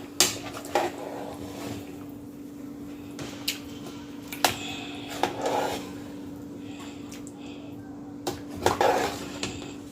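Crayfish and pepper being stirred into a pot of Nigerian turkey stew, with occasional spoon scrapes and clinks against the pot over a low steady hum. The knocks are scattered and moderately close.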